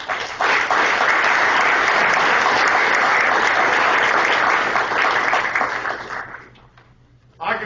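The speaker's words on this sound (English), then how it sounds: "I want you to give yourself a round of applause" A crowd at a Muskogee County Democratic Party award dinner and bean supper gives itself a loud, sustained round of applause that swells quickly, holds, then fades to near quiet before a final burst.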